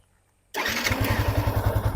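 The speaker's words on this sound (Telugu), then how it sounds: "ఓకే, స్టార్ట్ అయింది బండి." A 2019 Yamaha FZS motorcycle engine fires up after half a second of silence, then settles into a steady, close, throbbing idle with an even low pulse.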